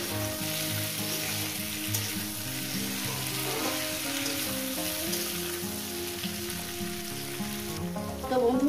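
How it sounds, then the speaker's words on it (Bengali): Okra frying in a pan for a Bengali poppy-seed dish, a steady close sizzle and crackle running throughout with no break, with soft stirring noises partway through. "সবজিটা দিয়ে বন্ধুরা যত সুন্দর করে ভাজবেন ততটাই সুন্দর হবে।"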